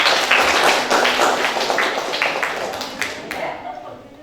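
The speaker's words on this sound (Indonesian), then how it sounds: "Tepuk tangan." A class claps at a teacher's cue during a lesson, giving a short burst of near hand clapping with distinct claps that fade over about four seconds, with some voices mixed in.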